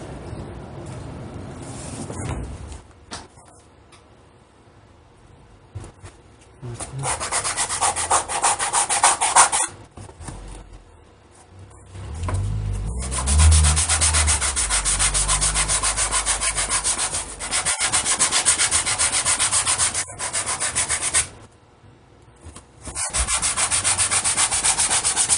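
Sandpaper scrubs a handmade Turbo Kid mask in long bursts of dry, rasping rubbing, close and loud, with short pauses between stretches of strokes.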